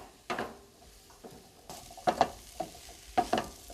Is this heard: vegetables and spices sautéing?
yes